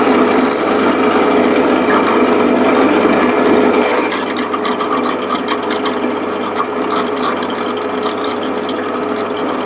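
A hand drill boring through a timber box lid of a different coloured wood, a continuous close grinding, ratcheting rasp that softens slightly partway through.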